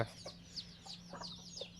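Free-ranging farm chickens, hens and a few young roosters kept half-penned, cluck in a steady scatter of short calls at moderate distance, with no talking.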